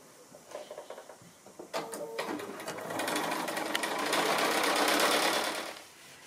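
A sewing machine stitches rows of a quilt block together. It starts with a few short bursts, then settles into a continuous, fairly close mechanical whir that stops near the end.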